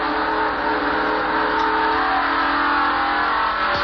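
Rick Wilson's NASCAR stock car at the 1988 Budweiser 500 pulls out of the pits and accelerates back onto the track with a loud, sustained, high engine roar close by, without any voices.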